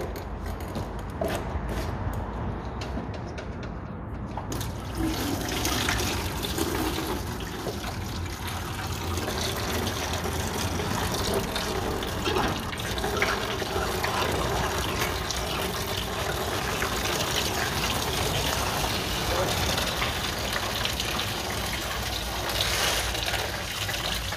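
Coolant water gushes steadily from a removed radiator hose on a Peugeot 206 with an overheating, clogged cooling system, a loud continuous pouring and splashing close by that fills the whole stretch without any talk.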